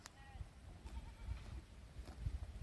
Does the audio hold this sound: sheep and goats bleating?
yes